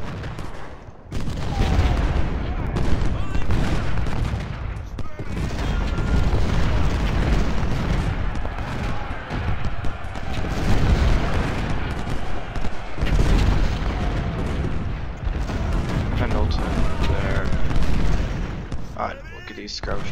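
Continuous artillery fire and booming cannon blasts in the Civil War strategy game Ultimate General at the Battle of Fredericksburg, heavy and loud with overlapping shots throughout, while a voice talks underneath.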